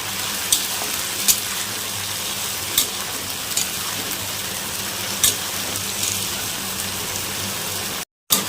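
Tomato and turmeric paste sautéing in a pan for a drumstick curry, giving a steady close sizzle with occasional brief stirring scrapes, no voices.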